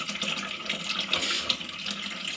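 Water runs steadily from a Kangen water ionizer machine during cleaning, with a continuous hissing splash like a stream pouring from an outlet, close by and unbroken.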